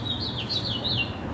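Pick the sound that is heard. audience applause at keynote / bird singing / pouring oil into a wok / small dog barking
bird singing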